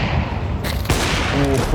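Gunfire in Counter-Strike 2 punches through a wall during an esports semifinal match, a sharp burst of shots over steady crowd and caster noise, with voices talking throughout.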